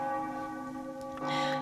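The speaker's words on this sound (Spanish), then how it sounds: "para oír las campanas de la iglesia" A church bell rings with a sustained, resonant tone that hums steadily and loudly throughout, with no voices.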